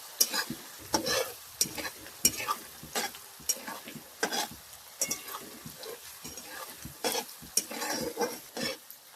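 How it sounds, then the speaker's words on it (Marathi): Roasted onion sautéing in a pan for masala chicken fry, a steady sizzle broken by repeated sharp scrapes and clinks of a spatula stirring, close and fairly loud, with no talking. "आपण मग अशी भाजून घेतलेला कांदा टाकूया. हे बघा, ह्याला छान असं लाल होत तर परतायचं"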